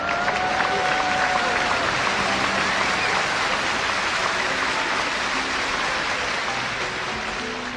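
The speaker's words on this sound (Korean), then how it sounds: "여러분, 뜨거운 격려의 박수 부탁드리겠습니다." Church congregation applauding during a Sunday morning service, a dense, steady wash of clapping that fills the whole clip at even loudness and fades slightly toward the end.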